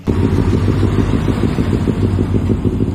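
Kawasaki ER6N motorcycle engine running close by, a loud, throbbing low rumble with a rapid, even pulse and slight clatter, heard alone without voices.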